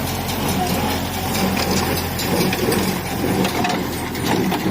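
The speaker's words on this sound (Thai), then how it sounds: "เสียงเครื่องยนต์นี่โหลดตาม ตู้อัดเลยครับงุดงุดงุดงุดงุดเลย" A Kubota L50SP tractor engine labors under heavy load baling straw, with a rhythmic thumping pulse from a Massey 224 baler, loud and close, steady throughout.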